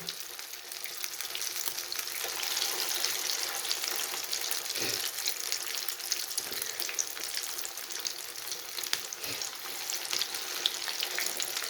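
Chicken reshmi kabab pieces fry in hot oil with a steady, crackling sizzle, punctuated by a few soft thumps as pieces are added.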